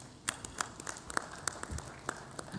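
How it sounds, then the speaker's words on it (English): Scattered audience clapping for an auditor at a football confederation general assembly: a brief patter of separate, uneven claps, moderately close, with no steady roar. "You can clap hands for him as well."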